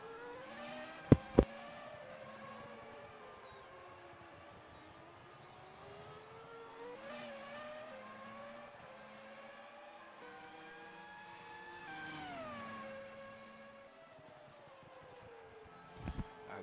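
A Grand Prix race car on its outlap in a Formula One racing video game set at the Japanese Grand Prix, engine whining steadily through rising and falling gear changes with two sharp clicks near the start.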